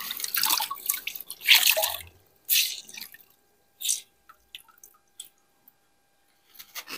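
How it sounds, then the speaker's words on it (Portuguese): Warm water is used to wipe sanding dust off a varnished surface, making close, wet squishing and wiping strokes in bursts with scattered drips between them. Quiet pauses separate the strokes. "Eu peguei um pouquinho de água morna para ir tirando esse excesso de pó."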